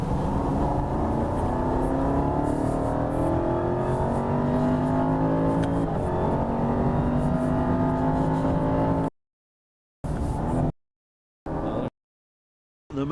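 A sports car engine revs hard with a loud, raspy exhaust roar that sustains for several seconds, then drops into brief silences.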